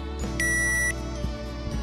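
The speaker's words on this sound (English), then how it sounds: "Successful alignment is confirmed by an audio tone." An Aircharge wireless surface charger gives a short, steady electronic confirmation tone when a device is aligned. It sounds once and clearly over a continuous humming background, with a few faint clicks afterward.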